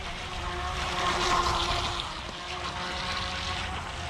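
A Carrera Profi RC Speedray hydroplane speedboat runs on water with a steady high motor whine and splashing, rising briefly and then easing a little.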